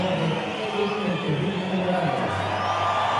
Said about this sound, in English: I can't hear with the crowd noise in here